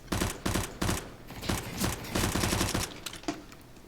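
Rapid bursts of video game gunfire in an online multiplayer match, loud and close, with several short volleys separated by brief gaps and a final lone shot near the end.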